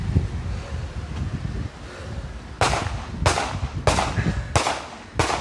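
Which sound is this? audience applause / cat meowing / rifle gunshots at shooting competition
rifle gunshots at shooting competition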